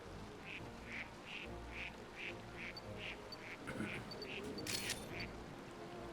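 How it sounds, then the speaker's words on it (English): Ducklett Pokémon in the Pokémon Snap video game quacking in a steady series of about a dozen short, evenly spaced calls, with a brief camera-like click near the end over a busy game background. "Quack, quack, quack, quack."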